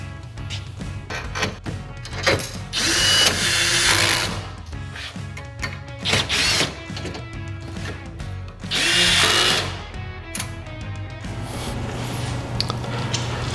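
A power tool drives four bolts into the frame of an iQ Power Tools iQMS362i saw, in loud, close bursts of whirring that start and stop repeatedly, with short pauses between runs.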